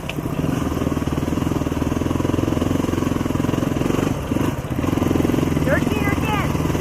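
A motorcycle chugs along a switchback trail in Alaska in third gear, its engine a loud, close, steady pulsing putter at low revs, with a brief dip midway and a rider's voice talking over it.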